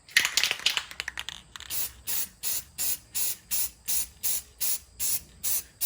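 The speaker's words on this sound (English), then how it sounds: "I'm going to give everything a nice full coat at this point of the matte enamel" Matte enamel paint sprayed in a steady run of about eleven short, even bursts from an aerosol can onto a BatGirl figure resting on cardboard, close and fairly loud, preceded by some irregular hissing spurts and handling.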